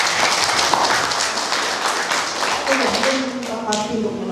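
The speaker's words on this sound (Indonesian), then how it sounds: "Luar biasa, tepuk tangan." An audience at an Indonesian cultural gathering marking National Education Day breaks into brisk, dense applause. The clapping thins out toward the end as a voice and a tonal sound rise beneath it.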